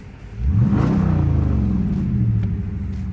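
A straight-piped 2017 Dodge Challenger with its muffler deleted revs in park outside sport mode, rising quickly into a loud, deep throaty roar, then settling into a sustained rumbling drone heard up close with no talking.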